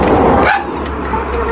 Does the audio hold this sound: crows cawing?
no